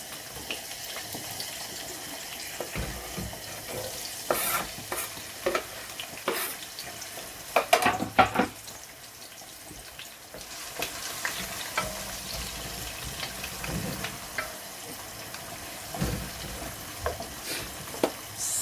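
Onions frying in palm oil in a pan for Sierra Leone banga soup, a continuous crackling sizzle with stirring clatter and occasional louder bursts, no talking.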